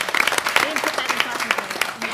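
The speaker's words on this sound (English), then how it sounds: "give her a round of applause" Applause at a FOIA Advisory Committee meeting, brief scattered clapping from a small room audience with a voice talking over it.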